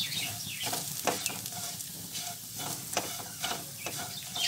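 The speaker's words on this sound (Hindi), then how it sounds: "सूजी को भी साथ में फ्राई करना है" Semolina frying in a pan with carrot and tomato for upma, a steady close sizzle broken by regular scraping stirs, with no talking.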